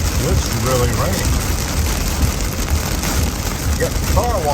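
Steady loud rainfall drums on a nearby surface, with a voice briefly talking over the constant hiss.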